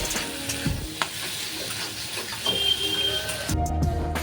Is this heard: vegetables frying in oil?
yes